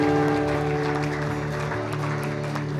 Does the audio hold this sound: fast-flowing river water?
no